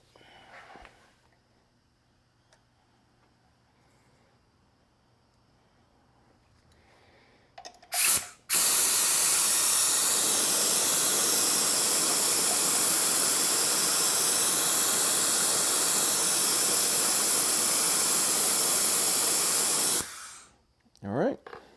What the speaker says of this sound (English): I'll put on this nipple attachment and I will suck the rest of the brake fluid